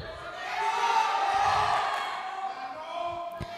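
Audience at a film competition award ceremony in a hall in Bantul, shouting and cheering together in a sustained, loud crowd roar that swells and then tapers, with voices mixed in throughout.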